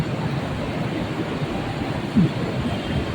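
Steady rumbling ambience at Tha Phra station at night, a continuous low wash of rail and traffic noise with a brief louder knock partway through, no clear voices.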